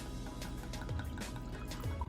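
Bacardi rum, half a cup, is poured into a bowl of cake mix in a home kitchen, giving a soft, continuous liquid trickle with a few gurgles, faint and close.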